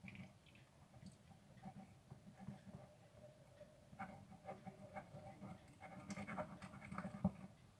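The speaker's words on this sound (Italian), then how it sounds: "Se sentite un po' il mio respiro" Heavy, forceful breathing close to the microphone, rhythmic panting over quiet sticky squelching and tapping from mini slime being mixed with detergent, baking soda and thickener.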